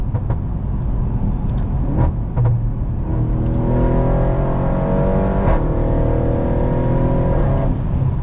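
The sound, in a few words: AMG 4-liter twin turbo V8 engine revving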